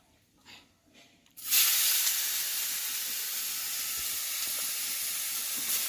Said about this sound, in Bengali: এটাকে মা হালকা করে ভাজবে